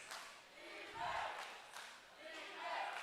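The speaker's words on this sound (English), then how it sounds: "Now you can hear the crowd getting back into things here" An arena crowd at the eFIBA basketball esports World Finals cheers and chants in swelling waves, loud and continuous, with commentary voices faintly in the mix.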